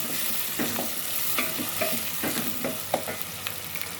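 Spices frying in a pan on low heat are stirred with a spoon, giving a soft continuous sizzle broken by several distinct scraping strokes against the pan, close by and with no talking.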